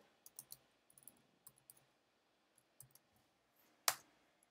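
Git commit command typed on a computer keyboard: sparse, soft key clicks in small bursts, quiet and close, ending in one sharper, louder keystroke.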